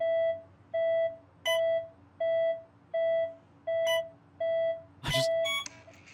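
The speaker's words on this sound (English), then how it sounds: "Okay, why is it beeping?" Electronic beeps in the video game That Dragon, Cancer: eight evenly spaced tones about half a second apart, steady and fairly loud, with a brighter burst of noise near the end.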